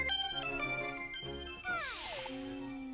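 A bell chimes in Zelda: A Link Between Worlds with bright, tinkling tones that ring out and descend into a sustained shimmering note, heard clearly alongside the game's music.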